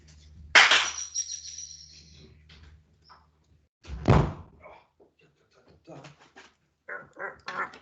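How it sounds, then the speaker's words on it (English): A door closes with a sharp, loud thunk that rings briefly, then a second heavy knock follows, with birds chirping and faint sounds in a quiet room. "Let me just close the door"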